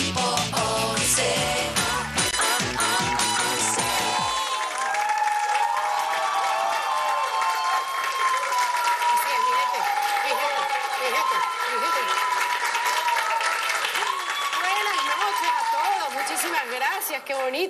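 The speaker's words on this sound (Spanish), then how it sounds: "Qué bonito, esos aplausos." An audience at a live comedy-style show applauds, with dense clapping and some cheering swelling continuously throughout while a voice talks over the start.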